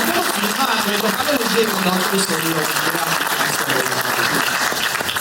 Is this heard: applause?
yes